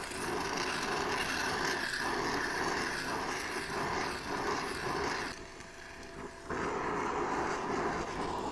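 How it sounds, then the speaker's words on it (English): A gas torch roars steadily while heating a hydraulic cylinder trunnion mount in a machine shop, a loud, close hiss that dips briefly before surging back. "get this good and hot with the torch"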